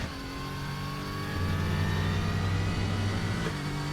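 Engine of a GT3 race car heard from the cockpit in the racing sim RaceRoom, a steady loud drone that rises in pitch as the car accelerates, with no talk over it.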